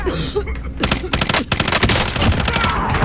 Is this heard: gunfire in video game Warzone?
yes